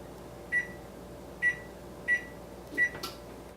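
Oven control panel beeping while being set to 390 Fahrenheit for baking soda bread: four short, clear electronic beeps spaced about a second apart in a quiet kitchen, the last followed by a brief click.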